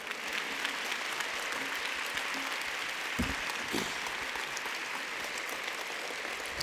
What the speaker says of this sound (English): I'd like for you to give Jasiri X and One Hood a standing ovation